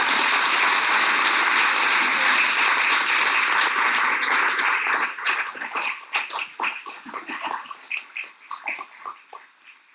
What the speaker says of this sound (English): if we could have a grand round of applause for all of our candidates